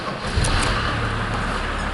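A 1993 Mercedes-Benz 300SD W140 diesel starting and settling into a steady idle, close up and fairly loud, with a low rumbling drone running unbroken and no talking.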